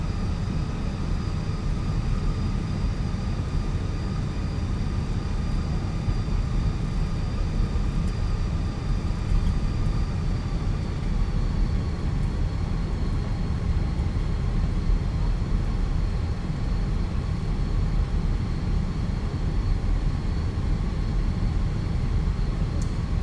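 Airbus A320 engines in Microsoft Flight Simulator hold a steady, loud roar with a thin high whine as the jet rolls for takeoff, continuous and unbroken throughout, with no voices.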